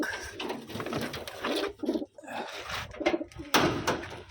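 Pigeons coo close by in a Taiwan-bred pigeon loft, soft throaty rolling calls repeating in short bursts with light fluttering and shuffling between them.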